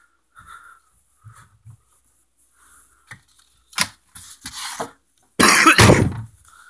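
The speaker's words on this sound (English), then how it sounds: "Ignore the coughing, I'm a little sick today." A person with a cold coughs in several loud, harsh bursts toward the end, after softer throat sounds and faint bumps at home near the kitchen.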